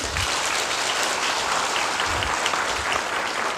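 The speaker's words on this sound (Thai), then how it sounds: "ขอเสียงปรบมือดังๆ ให้ผู้ก่อตั้งนะคะ แพทย์หญิงนฤนีไพบูล์ค่ะ" Audience applause for a company founder, a woman doctor, at a Giffarine event: steady, dense clapping from a crowd, fairly loud and continuous throughout, with no speech over it.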